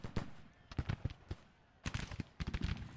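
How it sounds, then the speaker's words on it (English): Civil War gunfire from the strategy video game Grand Tactician crackles in scattered bursts of sharp shots and volleys, fairly faint and distant, with brief pauses between clusters. "hopefully you hear the gunfire better in the video."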